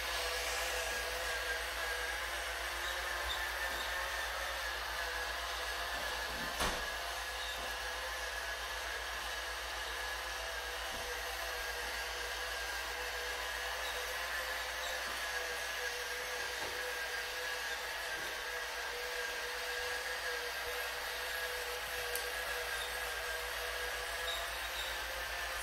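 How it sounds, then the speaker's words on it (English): A toy train runs with a quiet, steady mechanical whir, continuous and unchanging, with a few faint clicks. "we have a train right here pulling a car"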